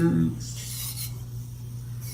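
A nail file rasps across acrylic nails in steady scraping strokes, close and fairly quiet over a low background hum.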